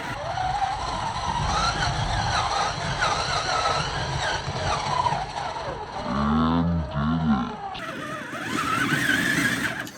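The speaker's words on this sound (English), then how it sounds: "the tires are just kicking them out and there's just no traction" Traxxas Summit RC truck tires spinning and scrabbling on loose rocks, a steady close gritty churn with a brief surging motor whine midway.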